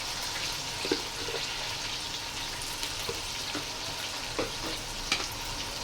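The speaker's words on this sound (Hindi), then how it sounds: "थोड़ी 1 मिनट हम इसकी बुनाई करेंगे, टमाटर भी सॉफ्ट हो जाएंगे" Chopped tomatoes with garlic-ginger paste frying in a pan for beef kofta pulao: a soft, continuous sizzle with occasional light clicks from stirring, fairly quiet and without speech.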